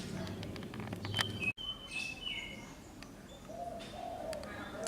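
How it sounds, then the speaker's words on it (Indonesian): A zebra dove or spotted dove coos repeatedly from above a house in the morning, its soft calls mixed with other chirping birds and faint background murmur. "ini ada burung perkutut atau deruk ya, agak besar deruk ya mungkin. Di atas rumah dia manggung terus."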